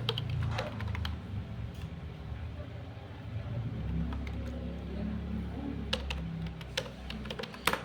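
Rapid, close clicking of computer keyboard keys while entering input for a C program, in irregular bursts with scattered sharper key presses over a low background rumble.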